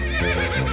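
A short cartoonish horse whinny, loud and close, rising and wavering in a single burst.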